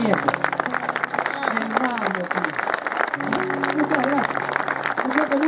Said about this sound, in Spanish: pido un aplauso grandote